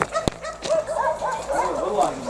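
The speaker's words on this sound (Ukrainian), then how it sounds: "сколько там собак, ужас" Many dogs bark repeatedly at a distance in Haivoron, overlapping yips and barks rising and falling, with people talking nearby.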